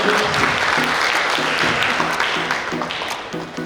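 A crowd claps steadily for several seconds at the TOMO Expo Jateng DIY 2024 event, the applause dense and close with a low rhythmic musical pulse beneath it.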